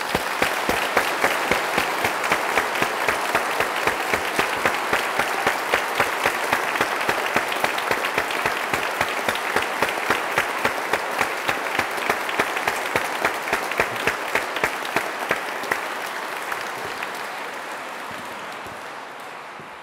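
Audience at a university degree ceremony applauding graduates, long sustained crowd clapping that gradually settles into a rhythmic, synchronized beat before thinning and fading out near the end.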